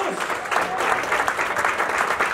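Church congregation applauding for the Lord during a sermon, a steady wash of clapping hands that fills the room evenly for a couple of seconds, with faint voices mixed in.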